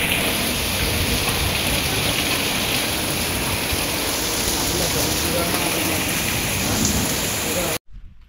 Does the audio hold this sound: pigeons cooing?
no